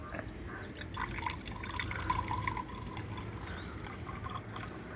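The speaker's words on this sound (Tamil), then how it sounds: "இப்போ நம்ம கிளாஸ் ஃபுல்லாகவே ஊற்ற போகிறோம்." Water is poured into a glass, filling it to the brim for lemon juice made with homegrown lemons. A close, continuous trickle and splash lasts the whole stretch, with no talking.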